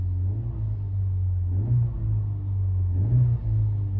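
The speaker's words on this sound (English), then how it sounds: "Let's rev it up." A 2026 Acura Integra Type S fitted with a COBB lower engine mount and PRL intake idles with a deep, steady hum, then rises in two short, quick revs before settling back to idle.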